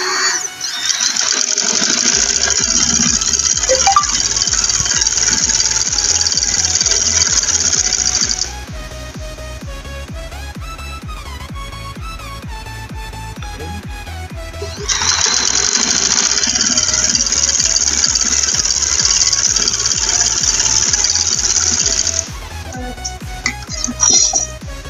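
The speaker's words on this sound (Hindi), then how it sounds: "ये मैंने कंप्लीट सिलाई लगा दी।" A sewing machine stitches fabric in two long, fast, whirring runs with a rapid mechanical beat, separated by a quieter pause of clicks and handling, then stops near the end.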